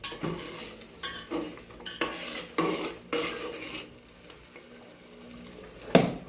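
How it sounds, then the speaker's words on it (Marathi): Masala for egg biryani being roasted and stirred in a pan: repeated scraping and clinking stir strokes over a low sizzle, close and intermittent, no talk. "ते चांगलं भाजायचं जरा अजून भाजून घेतला आहे"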